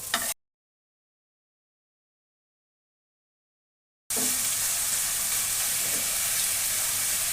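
Grated radish mixture frying in a pan as sugar melts for a sweet sandesh, giving a steady, close sizzle that starts after a short silence and carries on evenly.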